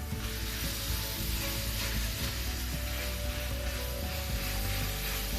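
Garlic and salsa hit a hot pan of browned onions and sizzle loudly, a dense continuous frying hiss with light scraping and stirring.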